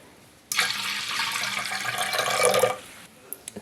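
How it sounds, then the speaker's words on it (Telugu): Two glasses of water pour onto lentils in a kitchen vessel, a close, steady gush lasting about two seconds, followed by a few small drips and clinks. "2 గ్లాసులు నీళ్లు పోసుకుందాం."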